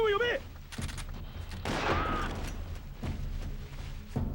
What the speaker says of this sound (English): What if I just took the shotgun out and just shotgun people?